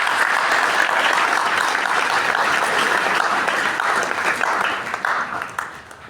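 A church congregation at a New Year's Eve Mass breaks into dense, sustained applause that fills the room evenly for several seconds before starting to thin out at the end.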